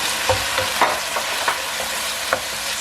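Chopped vegetables and tomatoes fry in a hot pan for a chicken masala Maggi, a steady close sizzle broken by a few sharp stirring scrapes and clinks, with no talking.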